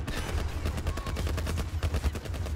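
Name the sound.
gunfire from enemies in the video game The Last of Us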